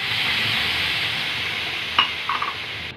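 Roasted ragi flour sizzles steadily in a hot pan, then milk is poured in with a sudden splash, followed by a few short scraping stirs.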